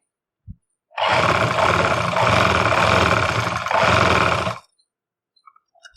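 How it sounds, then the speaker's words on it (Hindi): A sewing machine stitches along the edge of a suit, running in one continuous loud mechanical whir for about three and a half seconds after a single click, then stopping, close up with no talk. "तो चलिए इसके ऊपर सिलाई लगाते हैं। बिल्कुल किनारे किनारे पर सिलाई लगानी है।"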